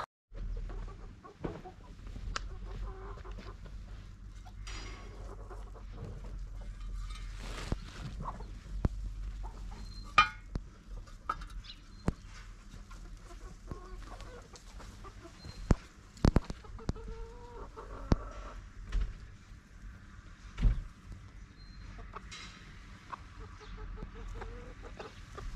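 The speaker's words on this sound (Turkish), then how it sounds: "Şu an yer arayan tavuklar var." Free-range Lohmann Sandy hens clucking at length, scattered soft clucks and occasional sharper calls from a flock nearby, with intermittent knocks and rustling.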